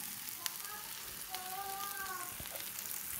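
Goat brain (maghaz) frying on a tawa with spices, a steady low sizzle throughout with a few faint clinks, heard close with no talk.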